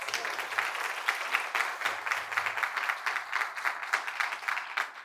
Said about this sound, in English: let's give Jimmy a round of applause